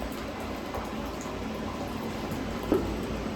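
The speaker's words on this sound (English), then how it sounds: "now we're going to get a good view of the wort coming out of our hop back, going back into the kettle" Beer wort pouring from a hop back into a brew kettle during a fresh hop brewing session, a steady low splashing and gurgling flow of liquid with a brief louder splash toward the end.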